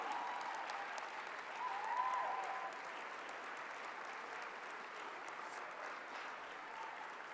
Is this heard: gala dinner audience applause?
yes